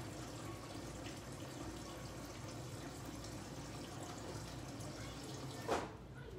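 Filtered water poured into a measuring container in a home kitchen for lemonade, a steady soft trickling stream that runs evenly throughout, quiet and close, ending with a brief louder splash.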